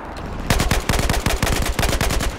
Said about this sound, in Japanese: 制圧射撃しながら下がろう。